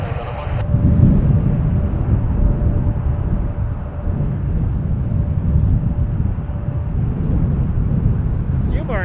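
An Embraer 175 jet airliner bound for Chicago O'Hare roars at Toronto Pearson Airport, a broad continuous engine rumble with wind buffeting the microphone and a thin tone fading out near the end.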